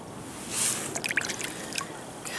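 A found pottery bowl from the River Thames foreshore rinsed in water, with soft splashes and a few faint drips and trickles, quiet and close.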